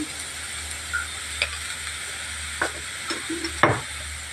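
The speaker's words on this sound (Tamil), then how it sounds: "ரெண்டு காயும் ஒன்றா போட்டுடலாம் இந்த எண்ணெயிலே நல்லா போட்டு பறக்கி விட்டுடலாம்" Steady sizzling of vegetables frying in oil for veg cutlets, with a few scraping clicks of a utensil stirring the pan at irregular moments.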